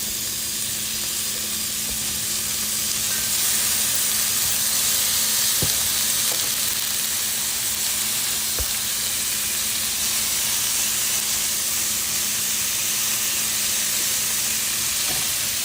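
Jumbo shrimp sear in a hot pan with a loud, continuous sizzle and hiss, with a couple of faint utensil taps along the way.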